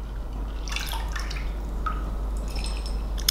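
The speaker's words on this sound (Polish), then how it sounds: "I zalać wodą do napęcznienia." Water splashes and trickles in short bursts as it is poured over sprouting seeds to soak them, close by, with a low steady hum underneath.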